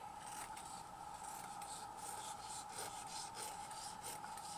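Scissors slice through a piece of satin-style ribbon for a shabby-chic wedding bow, giving a steady, close rasping swish that runs unbroken for several seconds with no talk.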